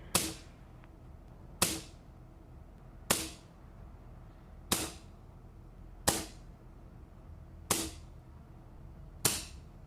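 Seven sharp .177 air gun pellet shots fire at a steady pace about every second and a half, each a crisp crack with a brief ringing tail, no talking.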